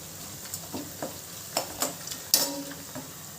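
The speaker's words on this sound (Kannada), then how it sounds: "ಈಗ ಕರ್ಬೇವಿನ ಸೊಪ್ಪು ಇದ್ದೀನಿ" Curry leaves sizzle in hot oil for raw mango chitranna, a steady low frying crackle with a few sharper pops and spatters rising through it, close up and with no voices.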